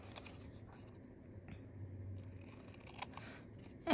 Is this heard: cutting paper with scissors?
yes